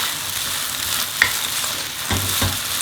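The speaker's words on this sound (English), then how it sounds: "I'm going to put all this chow mein in there. And I'm going to just give it a quick fry" Chicken chow mein noodles frying in a pan with a little olive oil, giving a steady close sizzle broken by a few brief stirring scrapes and clunks.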